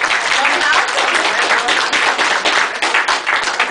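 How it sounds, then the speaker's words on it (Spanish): Loud, dense applause from a crowd, steady clapping filling the room throughout without letting up. "¿Otro aplauso?"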